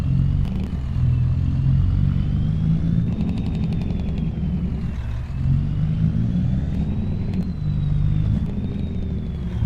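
Truck engine from the farming video game Farming Simulator 25, a steady low drone that rises and falls slightly in pitch as the vehicle drives along, continuous and fairly loud with no talking.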